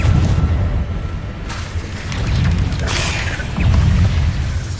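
A Confringo spell explosion in a Harry Potter-style game scene, booming low rumbles with crackling bursts, loud and continuous over several seconds.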